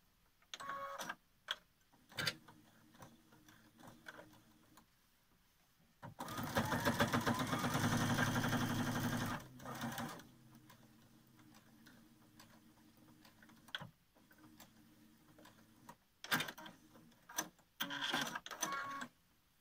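Domestic sewing machine stitching a fabric face mask, a sustained loud whirring burst of rapid stitching lasting about three seconds, set between quieter clicks and handling sounds.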